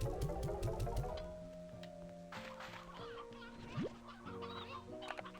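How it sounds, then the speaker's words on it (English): Cartoonish chickens cluck and squawk in the video game Slime Rancher 2, with a quick run of clucks at the start and then scattered calls over the game's steady musical background. "Alright now, chickens."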